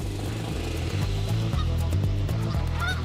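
A flock of geese honking steadily and close by as a herding dog approaches, with overlapping calls repeating in a busy rhythm throughout.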